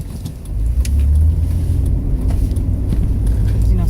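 Cars passing in traffic, heard as a loud, close, continuous low engine rumble that swells and holds with slight variations as vehicles go by.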